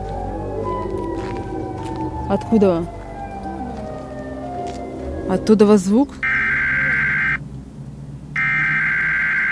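Voices talk and shout over a low drone, then the loud, steady electronic siren-like wail of the Siren Head monster blares in two long bursts with a short gap.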